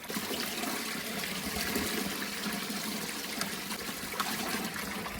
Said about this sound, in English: The water does fill up rather fast.